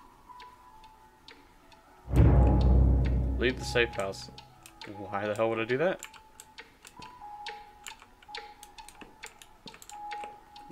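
A clock ticks steadily in a Bendy and the Ink Machine game scene, sharp regular ticks running throughout, with a loud burst of in-game speech over the first half and a faint tone in the background.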